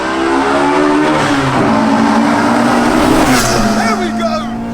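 A Honda Integra Type R DC2 drives and accelerates, its engine note rising steadily and loud from inside the cabin, with a brief sharper surge near the end and people talking over it.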